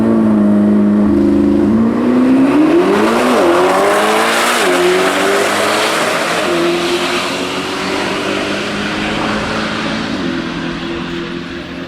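A 2025 Chevrolet Corvette ZR1 launching on a quarter-mile drag strip in hot weather: a loud, continuous engine roar that climbs in pitch through rapid gear changes, with tire noise, sustained for the whole run.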